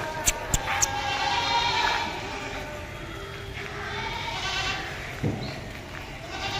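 Goats bleat at the Deonar goat market in Mumbai, several short calls early on over a steady crowded market din, with more bleats rising through the busy background.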